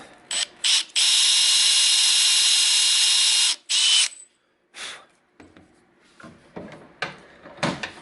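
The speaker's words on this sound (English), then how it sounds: "I have it loaded in my drill, and I'll just create a hole" A power drill boring a hole in wood with a Forstner bit whirs loudly in a long steady burst, then runs in several shorter spurts with small clattering knocks between them.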